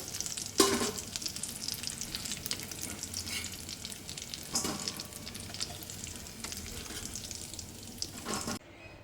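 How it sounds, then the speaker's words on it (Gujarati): Potato vada deep-frying in hot oil for Mumbai-style vada pav, a continuous bubbling sizzle with a few sharp utensil knocks near the start and middle, fairly close and unbroken by talk. "તો બધા જ વડાને આ રીતે તળીને રેડી કરી લઈશું."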